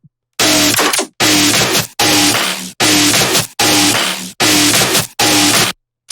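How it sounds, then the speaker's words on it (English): Dubstep drop bass plays as seven loud, gritty, distorted bursts in a steady rhythm, each chopped off by a short gap of silence, close and dense, with no voices. "the basses on itself just sound like this"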